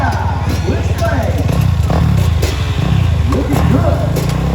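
Four-stroke motorcycle engines rev at a festival stunt show, a loud, steady engine roar with rhythmic rising and falling revs throughout, a crowd and announcer faintly beneath.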